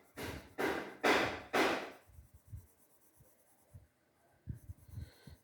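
A pencil strokes across paper in four quick, scratchy passes while shading the legs of a cartoon character, followed by softer light taps and scrapes.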